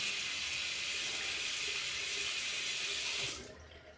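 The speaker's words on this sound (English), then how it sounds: "I'm going to try to rinse that out through the channels" Tap water running steadily to rinse a clogged Razorock Hawk v3 safety razor at a sink, a close continuous splashing flow that cuts off sharply near the end.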